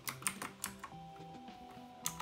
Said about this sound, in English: If I type